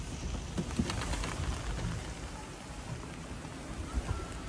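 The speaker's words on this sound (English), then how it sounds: "the rain is set for the whole day" Heavy rain falls steadily outdoors on a dismal day. The hiss is broad and continuous, with scattered heavier drops and low rumbling underneath. Nobody speaks.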